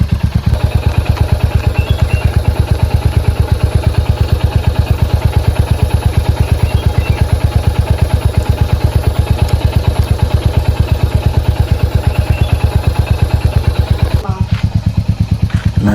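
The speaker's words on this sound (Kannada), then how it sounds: "ಸ್ಟಾರ್ಟ್ ಮಾಡಿಟ್ಟಿದ್ದೀನಿ ಸ್ವಲ್ಪ ಇಂಜಿನ್ ಹೀಟ್ ಆಗಲಿ ಅಂತ." A motorcycle idles steadily on a cold morning to warm its engine, its close, loud, even beat running throughout before dipping briefly near the end.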